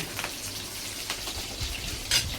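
Onion fries in oil with cumin and curry leaves in a home kitchen, a faint, steady low sizzle with a brief brighter crackle near the end and no talk.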